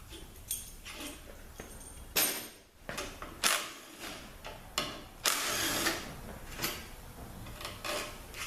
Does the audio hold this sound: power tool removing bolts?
yes